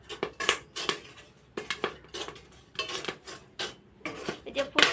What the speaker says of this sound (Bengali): এই যে ফুটছে আর আওয়াজ হচ্ছে।